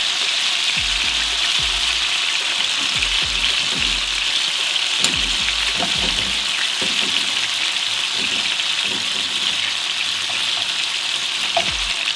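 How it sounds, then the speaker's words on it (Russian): Food frying in a covered pan, a steady loud sizzle with occasional pops and low thumps of the lid or pan, continuous and close with no talking. "И ровно 3 минуты пускай жарится под крышкой."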